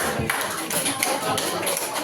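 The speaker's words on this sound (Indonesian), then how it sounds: "Oke, beri tepuk tangan untuk kita semua." Physics classroom of students applauding together, a dense patter of hand claps filling the room at moderate loudness, with some voices underneath.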